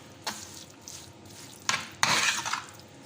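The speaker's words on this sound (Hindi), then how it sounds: "और दोबारा से इसको अच्छे तरीके से कर लेंगे मिक्स" Raw chicken being stirred and mixed with a spoonful of cooking oil in a bowl for a chicken cheese sandwich, with a few wet scraping and sloshing bursts that grow louder near the end and no talk.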